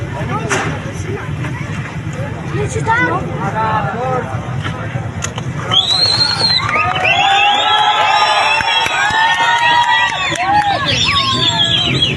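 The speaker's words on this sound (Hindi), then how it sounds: "वहाँ के आम जनता चीयर कर रही है" A street crowd in a Balochistan city cheers and shouts, with loud overlapping voices and whistle-like yells swelling into a dense roar after a stretch of rumbling background hubbub.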